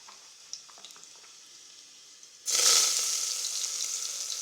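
A dried red chilli drops into hot oil and bursts into a loud, bright sizzle after a quiet lead-in, the crackling fry continuing steadily close by.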